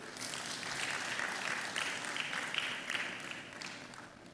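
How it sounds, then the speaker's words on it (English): Applause from a conference audience at a retail congress, a dense, even wash of many hands clapping, sustained at moderate volume throughout with no talking over it. "I thought somebody would give a very good round of applause."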